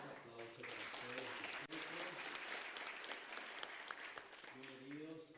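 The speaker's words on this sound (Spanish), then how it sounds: "Un aplauso para ustedes." A congregation at a live Mass in the María Auxiliadora chapel in Lambaré bursts into steady, moderately loud applause, with a voice speaking over the clapping at the start and again near the end.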